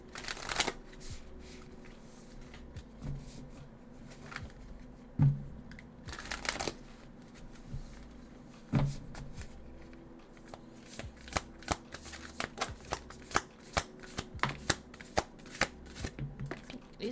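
A deck of cards shuffled by hand, soft riffling and flapping rustles with irregular clicks and taps, close and quiet with no talking.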